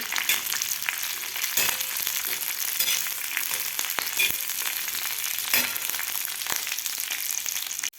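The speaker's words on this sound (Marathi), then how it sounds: "व्यवस्थित आपल्याला ही मिरची भाजून घ्यायची आहे" Green chillies roast in a hot pan with a dense, crackling sizzle that runs throughout, punctuated by occasional sharp pops and taps, close and steady with no talking.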